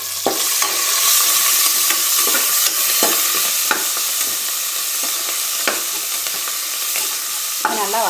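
Onions with asafoetida sauté in a pan with a loud, steady frying sizzle and hiss, broken by frequent light clicks and scrapes of a stirring spoon.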